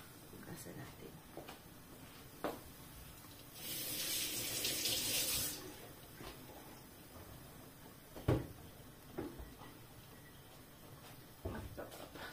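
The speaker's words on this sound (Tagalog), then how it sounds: "Tapos, hugasan lang naman natin yan po." Tap water runs into a kitchen sink for a couple of seconds while food is rinsed, a steady hiss in the middle of the stretch amid light clatter and occasional speech.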